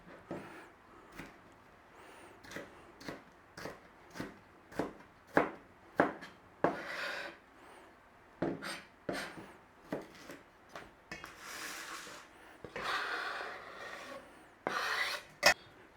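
A knife chops red pepper into small cubes on a cutting board for a classic macaroni salad, the brisk, evenly spaced close taps later quickening into a faster run of chops.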